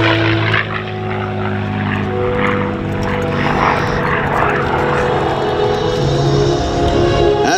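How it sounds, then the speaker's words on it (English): A P-51D Mustang warbird's piston engine drones loud and steady as it flies a hesitation roll along an air show line, a rich propeller roar with a strong low hum that swells and shifts in pitch throughout. "What now as Scooter brings the Mustang down the show line for the 16-point hesitation roll?"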